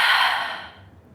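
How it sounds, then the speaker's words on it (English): A deep exhale out through the mouth during a yoga breathing exercise, a single long breathy rush that starts full and close, then tapers away to near silence. "Continuing with this deep breathing in through the nose and out through the mouth."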